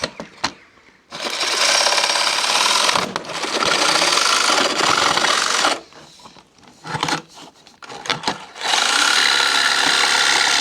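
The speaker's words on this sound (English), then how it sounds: "Little deburr or a file." Metal L track is filed or deburred during a camper van build, giving harsh scraping rasps in long sustained strokes broken by short pauses and clicks.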